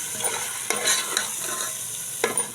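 Cauliflower and egg curry stirred in a pan, a steady close scraping and soft sizzle with a few sharper clinks of the spoon against the metal, no voices.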